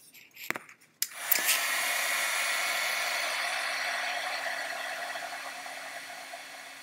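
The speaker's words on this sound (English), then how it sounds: "Let me get my embossing gun." Embossing heat gun switching on after a couple of clicks and handling knocks, then a steady blowing whir that holds and slowly tapers slightly, with no talk.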